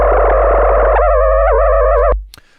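A loud, buzzy Operator synthesizer tone modulated with white noise sustains with a jittery, wavering pitch that shifts upward partway through, then cuts off abruptly, followed by a brief click and a faint noisy tail.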